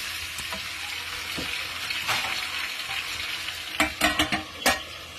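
Vegetables being stirred in a hot pan, a steady broadband sizzle with soft scraping strokes, then a few sharper utensil clinks near the end; no voices.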